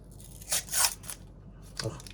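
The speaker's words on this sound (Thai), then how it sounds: "กระดาษธรรมดานี่แหละครับฉีกไปเลยนะครับ" Plain paper wrapping torn open from around a new GoPro Hero 9 Black camera, close and crisp, with two quick rips followed by a shorter tear after a brief pause.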